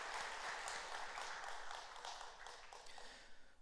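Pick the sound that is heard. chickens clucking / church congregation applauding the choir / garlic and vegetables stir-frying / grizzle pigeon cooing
church congregation applauding the choir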